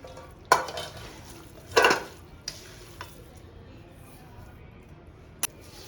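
Sweet-sour mango pickle ingredients mixed by hand with a spoon, a few sharp scraping bursts over a soft steady background, close, without talk.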